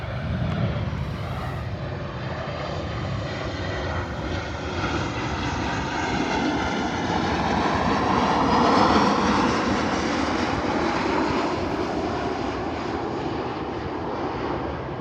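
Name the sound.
airplane passing overhead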